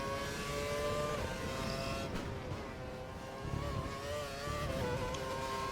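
Formula 1 cars racing at Montreal, Canada in the F1 2012 video game, with sustained high engine whine and shifting revs, a car swelling past midway, steady and fairly loud with no talking.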